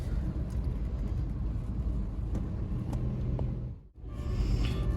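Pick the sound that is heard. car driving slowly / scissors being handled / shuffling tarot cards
car driving slowly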